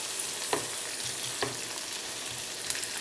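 Vegetables tossed and frying in a pan for saltfish, a steady close sizzle with a few soft scraping stirs and clinks at intervals.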